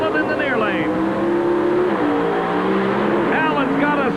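Pro Stock drag cars at Atlanta Dragway in 1988, a Ford against a Chevrolet, scream with rising engine revs and rapid gear-shift pitch sweeps, loud and close, while a commentator speaks over the din.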